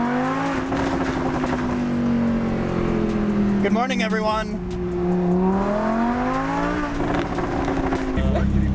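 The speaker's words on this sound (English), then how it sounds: "Oh, because I was revving it here at the Ritz when I was asked by the staff to do it." A Lotus Evija electric hypercar of 2000 horsepower hums loudly nearby, its tone rising and falling steadily in a sustained whine over several seconds while someone talks over it.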